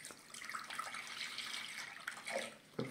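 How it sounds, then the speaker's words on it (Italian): Milk is poured from a container into a cooking pot, giving a soft, continuous liquid stream with a light splashing texture. It is quiet and close, with no talking. "Latte lo versiamo in una pentola."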